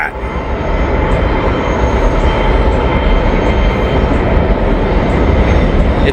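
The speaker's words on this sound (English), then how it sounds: "We got a Norfolk Southern train coming on." A Norfolk Southern freight train rolls over High Bridge, Kentucky, a loud, dense, continuous roar of wheels and cars at close range with faint clicking.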